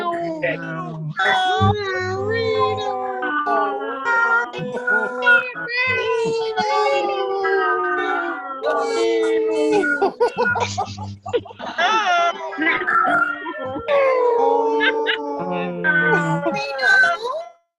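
Several people imitate a cat meowing the word "Reno", their voices overlapping into a loud, warbling chorus of mock meows, with laughter breaking in.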